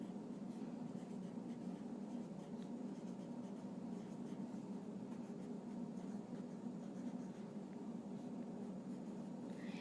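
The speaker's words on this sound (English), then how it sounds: "So take your blue colored pencil again, and on the top I'm going to write standard form." Colored pencil scratching steadily across paper while lettering a heading, a continuous soft scraping texture that stays even and close throughout with no pauses or voices.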